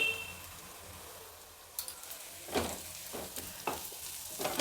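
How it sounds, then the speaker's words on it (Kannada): Onions frying in a pan for a Kerala-style moru curry, a soft low sizzle that swells with several stirring scrapes and clatters in the second half, with no talk. "ಈರುಳ್ಳಿ ಎಲ್ಲ ಚೆನ್ನಾಗಿ ಫ್ರೈ ಆಗಿದೆ"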